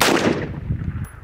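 A single loud, close gunshot from a loaded gun firing bullet at bullet, a sharp blast that decays with a rumbling tail.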